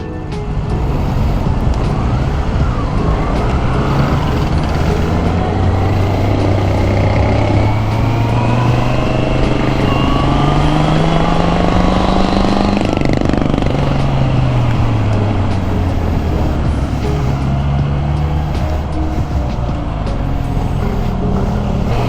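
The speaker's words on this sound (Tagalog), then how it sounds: "habang tumatagal sa akin tong stock exhaust ng CB, ganda naman siya pakinggan" A Honda CB650R with its stock exhaust runs under way on a rough offroad ride, its engine droning loud and steady with rising and falling revs, all under constant wind rush.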